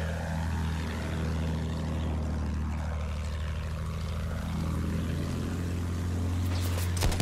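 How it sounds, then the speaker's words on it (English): A steady, droning engine hum from an airship in the video game Battlefield 1, a continuous low propeller-like rumble that swells and dips slightly, with no talk. "Airship sighted, big one."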